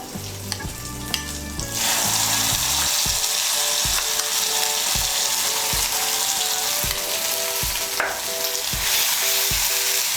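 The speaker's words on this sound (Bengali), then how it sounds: "মিশিয়ে নিচ্ছি পেস্টটাকে তেলের সঙ্গে।" Mustard, poppy seed and green chili paste frying in hot oil in a pan, a steady loud sizzle broken by regular scraping and stirring strokes, with no talk.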